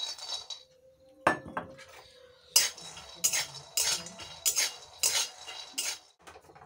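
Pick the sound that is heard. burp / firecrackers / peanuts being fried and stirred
peanuts being fried and stirred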